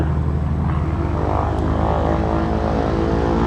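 Light propeller airplane engine held at 1800 RPM for a pre-flight run-up magneto check, a loud steady droning roar with a throbbing low pulse, close and continuous with no talk over it.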